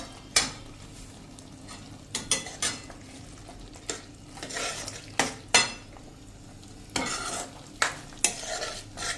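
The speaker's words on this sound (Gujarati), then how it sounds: "અને એને આપણે આ રીતે મિક્સ કરી લેશું." Bottle gourd curry being mixed in a pan, with repeated sharp scrapes and knocks of a spoon against the metal over a soft background sizzle, irregular strokes spaced through the stretch, close and fairly loud.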